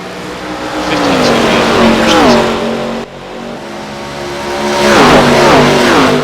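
Several race car engines roar together in an iRacing ARCA Series stock car race at Homestead Miami Speedway, pitch sweeping as cars pass close by, a steady loud drone with rising whines, under faint talk.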